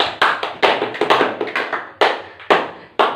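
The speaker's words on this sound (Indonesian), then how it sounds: "Tepuk tangan untuk Dapi." A few hands clapping in a classroom lesson, in an uneven, sparse rhythm, about a dozen sharp claps spread over a few seconds, fairly close.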